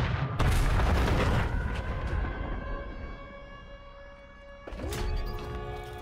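A nuke detonates in Call of Duty: Modern Warfare 3 with a massive, heavy boom that rumbles and slowly fades under ringing tones, then a second sharp blast erupts near the end.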